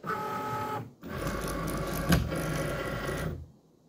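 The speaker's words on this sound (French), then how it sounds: "chargeons le tapis pour la Cricut Maker classique" A Cricut Maker cutting machine draws in its mat with a steady mechanical whir and grind, pausing briefly before a second longer run marked by a single click, then stopping into silence.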